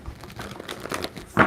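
A quick rustle and flutter of tarot cards being shuffled, ending in a louder riffle snap up close.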